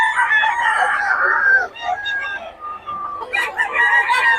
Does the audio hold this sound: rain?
no